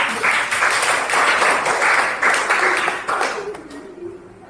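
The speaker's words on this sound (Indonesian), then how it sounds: "Tepuk tangan semuanya." Applause from a classroom audience of students after a group discussion presentation on global warming, steady dense clapping that fills the clip and fades toward the end.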